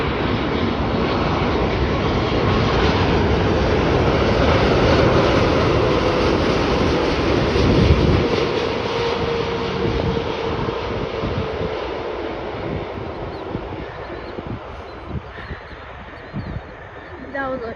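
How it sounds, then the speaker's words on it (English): A Korean Air Cargo Boeing 747-8 freighter arriving from Anchorage touches down firmly at Chicago O'Hare, a loud, broad jet roar with a surge partway through that then tapers into rumbling rollout noise. "That is a Boeing 747-8B5F Korean Air Cargo arriving in from Anchorage"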